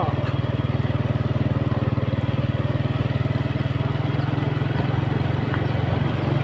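Motorbike ridden along a road, its engine droning steadily and close throughout with a constant rumbling pulse and wind noise.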